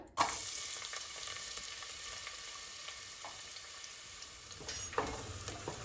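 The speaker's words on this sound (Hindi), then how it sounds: "प्याज को हम गोल्डन होने तक अच्छे से भून लेंगे" Onion fries in oil with cumin and black cardamom for Kashmiri haakh. A sudden sizzle flares up and then settles into a steady hiss, with a few stirring scrapes near the end, close by and with no one talking.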